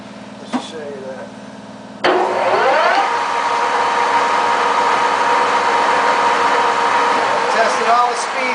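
A JET 18x80 geared head engine lathe starts up at a higher speed setting, jumping abruptly from quiet to a steady, loud mechanical whir and gear hum that holds evenly, with someone talking over it.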